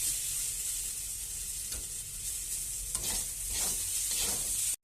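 Peanuts frying in a pan with sizzling oil for a banana-flower recipe, giving a steady close hiss with occasional stirring scrapes that ends abruptly.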